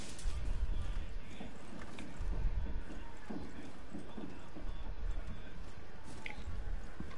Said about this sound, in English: Sounds like there's a fucking horse in there.